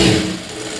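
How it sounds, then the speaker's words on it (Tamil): A sewing machine motor hums loudly and evenly as it stitches a straight half-inch seam on a blouse lining, a brief close-up burst under one second. "இப்போது இது நேராக ஒரு 1/2 இன்ச்சுக்கு வர மாதிரி தையல் போட்டுருங்க"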